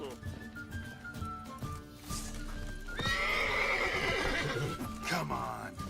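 Horse in The Witcher 3 gives a loud, shaky neigh with whinnying over clip-clopping hooves, a second whinny following near the end, while someone talks over the game sounds.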